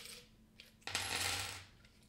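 Small metal charms are shuffled and dropped for a reading, with faint handling followed by one short burst of light, close clinking and jingling that fades out.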